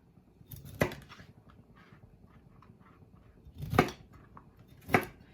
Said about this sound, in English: And then I'm just gonna cut it into pieces.